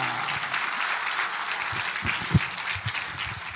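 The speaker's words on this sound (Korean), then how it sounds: "박수로 모시겠습니다." An audience applauds to welcome a professor at a talk event, a dense, steady round of clapping carrying on throughout, with a few louder thumps near the end.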